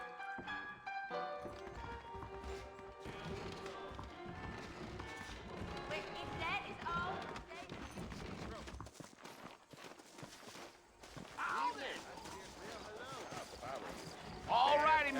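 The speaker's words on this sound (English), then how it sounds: "I got the horses saddled up and ready out front." Hooves clip-clop at a steady horse trot in the video game Red Dead Redemption, beneath music and people talking, ending with a brief swell of louder sound.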